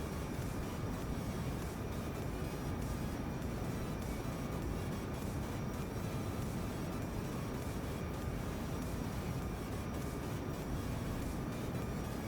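A Kerbal Space Program aircraft flying over Kerbin at more than Mach 2 gives off a steady, muffled rushing roar that stays constant and fairly quiet throughout, with no talking.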